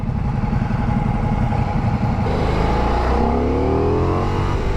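A Ducati Diavel V4 motorcycle engine revs hard and loud at close range, its pitch climbing through the middle of the burst with a gruff, grunting growl and no talking over it.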